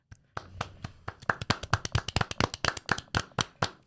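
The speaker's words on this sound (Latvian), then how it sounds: "Es domāju, ka tie var būt mūsu aplausi." Several pairs of hands clap at a season-opening gathering, starting sparse and building into a quick, uneven patter of sharp slaps, close and fairly loud, with no talking over it.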